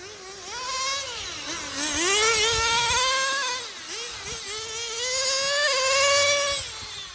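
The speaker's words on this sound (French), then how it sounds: "Vous voyez, Claude, il roule depuis le milieu de la piste" A Colt10 RC car buzzes around a track with a high, whiny electric motor that rises and falls in pitch as it speeds up and slows through the turns, loud and close throughout with no talk.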